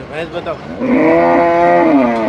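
A loud, drawn-out buffalo bellow rises after a moment of low grunting and background murmur at the Erragadda buffalo market in Hyderabad, holding steady for over a second before trailing off.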